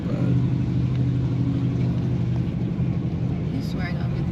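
A Chevrolet Camaro Z28 police car engine rumbling steadily at a car meet, a low continuous drone that stays loud and close throughout, with people talking nearby.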